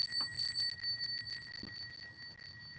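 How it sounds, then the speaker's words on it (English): Light bell tones ring out several times in quick succession, bright and sustained, over a quiet background. "Ring the bell."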